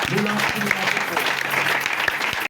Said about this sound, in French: Acclame très fort pour Jésus